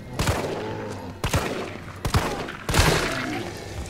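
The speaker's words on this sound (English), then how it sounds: "Three shots to the head." Gunshots in the Resident Evil 3 Remake survival horror game: four loud, close blasts spaced roughly a second apart, each one trailing off with a short echoing decay.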